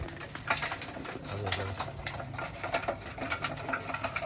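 Pigeons at a home loft with squabs coo in low rounded phrases, one fuller coo in the middle, mixed with light pattering and a hint of voices nearby.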